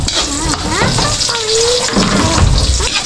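Food sautéing in a hot pan, a loud, steady sizzle with bursts of stirring and scraping running throughout, close and unbroken.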